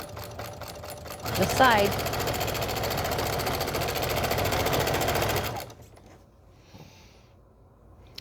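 A sewing machine stitches down invisible machine applique on a pillow, a loud continuous rapid whir lasting several seconds, then it stops, with brief speech near the start and end.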